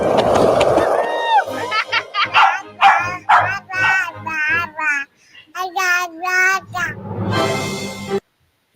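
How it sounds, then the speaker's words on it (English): A dog barks in the background while a baby vocalizes and babbles up front. Several sharp yips and barks mix with the baby's rising, warbling voice over about nine seconds. "in the background there is a dog barking sound"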